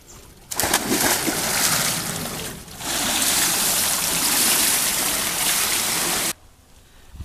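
Steady rushing water at a swimming pool on Koh Samui, a loud continuous splashing flow close by that briefly dips, then resumes before cutting off.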